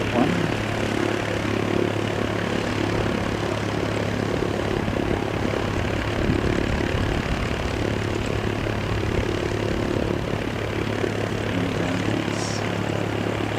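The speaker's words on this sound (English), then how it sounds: "This is a Cessna." A Cessna high-wing propeller airplane drones steadily overhead, a continuous engine and airscrew rumble with a low tonal hum, holding at an even, fairly loud level throughout with no talk.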